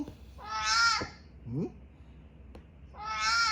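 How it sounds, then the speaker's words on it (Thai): A cat meows loudly twice, opening and closing with long harmonic cries, with a brief chirp and a soft click between them, close and clear. "เสียงแมวหน่อย"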